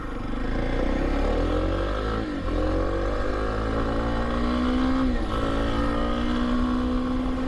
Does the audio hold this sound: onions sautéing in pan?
no